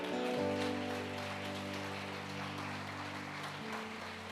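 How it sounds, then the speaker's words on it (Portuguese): A church congregation applauds in a dense, rain-like patter that lasts throughout, under sustained keyboard chords. "Aplauda bem forte a Ele."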